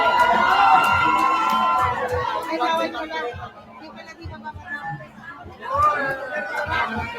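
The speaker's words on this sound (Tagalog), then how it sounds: "Hiyawan, Daming tao." A large crowd at a political rally in Davao, with supporters holding placards, shouts and cheers in a dense, sustained roar of mixed voices that dips briefly, then swells again.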